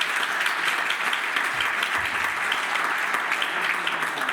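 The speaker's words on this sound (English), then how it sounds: "Give yourselves a big round of applause." An audience at an evening talk clapping, a dense, even applause sustained throughout with no pauses.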